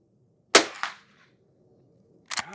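Henry H001 lever action rifle firing bulk .22 ammunition at a range, one sharp close shot with a brief echo tail, followed later by a second burst of clicking and rattling.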